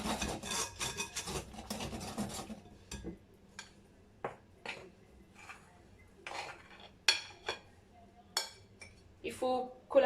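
Brioche dough being whisked by hand in a bowl, a dense scraping, rasping stir for the first few seconds, then short separate scrapes and clinks against the bowl, fairly close and moderately loud.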